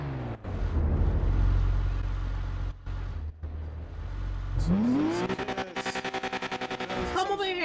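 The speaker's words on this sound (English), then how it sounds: "Yo, that car is so loud." A loud car engine in a video game roars at a steady low rumble, then revs up sharply, with rapid stuttering bursts that sound like a rev limiter and a final rising whine. Talk is mixed in at times.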